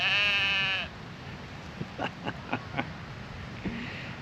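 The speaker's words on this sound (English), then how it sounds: "Got a very noisy sheep just to my left." A sheep close by at a wild camp in Eskdale gives one loud bleat at the start. A few soft clicks and rustles follow against a quiet outdoor background.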